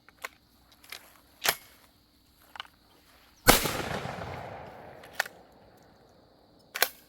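A Browning A5 shotgun fires Texas Game Loads, one loud close blast with a long rolling decay, surrounded by scattered sharp clicks and clacks of handling before and after.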